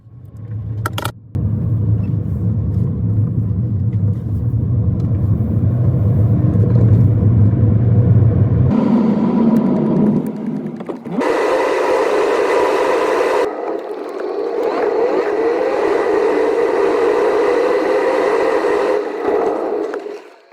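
A car drives out onto a road with a bike loaded inside, its steady low engine rumble continuous and close, shifting in tone as it changes gear and picks up speed; a short clunk comes near the start, and no one speaks.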